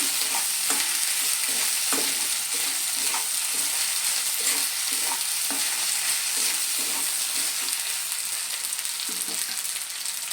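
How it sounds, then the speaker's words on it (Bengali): Spice paste stirred and fried in a pan for a Bengali spinach and cabbage dish, with a steady sizzle and repeated scraping strokes of the spoon throughout, close and continuous. "কাঁচা মশলার গন্ধটা যতক্ষণ না চলে যায় ততক্ষণ আমি এটা নাড়তে থাকছি।"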